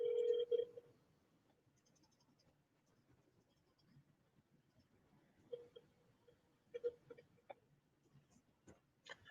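An outgoing telephone call ringing: faint, quiet ringback tones in short bursts, separated by stretches of near silence, with soft clicks and light background noise.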